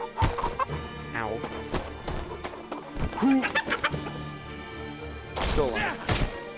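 A chicken in a Mr Chicken video game clucks and squawks in repeated bursts, close and fairly loud, mixed with a few thuds.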